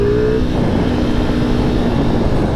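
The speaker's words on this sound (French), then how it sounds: "quand on tape dans le moteur, qui aime bien prendre des tours, hein, c'est toujours ce profil sur ce V4" A V4 motorcycle engine, torquey and eager to rev, drones steadily and loudly at close range with a sustained intake-heavy tone, holding high revs throughout without talk.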